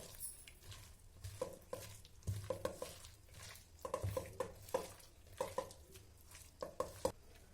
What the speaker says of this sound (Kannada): ಈರುಳ್ಳಿ, ಕರಿಬೇವು ಮತ್ತು ಕಡಲೆ ಹಿಟ್ಟಿನ ಮಿಶ್ರಣ ಚೆನ್ನಾಗಿ ಹದಕ್ಕೆ ಬರುವಂತೆ ಚೆನ್ನಾಗಿ ಮಿಕ್ಸ್ ಮಾಡಿಕೊಳ್ಳಿ